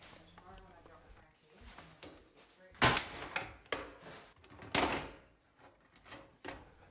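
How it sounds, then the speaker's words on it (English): Flat screwdriver prying a plastic dishwasher control box free of its clips, giving a few sharp snapping clicks and knocks, the loudest near the middle, with quieter handling rustle between them. "Use a flat screwdriver just to pry this control box from the clips."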